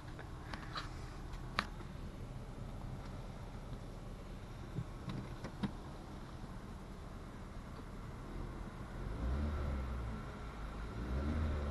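A car engine rumbles steadily at moderate distance, swelling louder toward the end as the vehicle pulls away, with a few brief clicks scattered early on.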